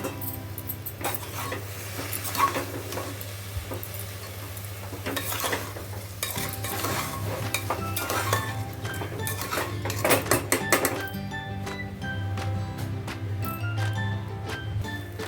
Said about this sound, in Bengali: সব রাইসটা দিয়ে নাড়াচাড়া করব ভালো করে